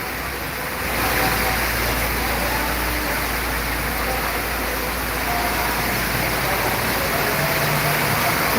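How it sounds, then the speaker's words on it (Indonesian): Heavy rain pours steadily around a bus of the ALS line, number 394, in Palembang, a dense continuous wash of noise with a low engine-like rumble underneath, no talk. "Deras sekali hujannya."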